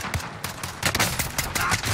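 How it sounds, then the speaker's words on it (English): Rapid gunshots in Call of Duty Warzone, a loud close string of sharp cracks in quick succession over about two seconds with no talking. "Taking shots here."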